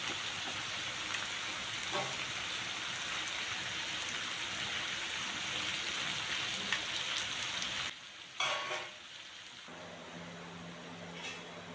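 Peppers and tomatoes cooking in a pan, giving a steady rain-like sizzle that runs continuously, drops away sharply near the end, then returns fainter with a brief clatter.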